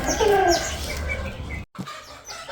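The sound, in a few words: roosters clucking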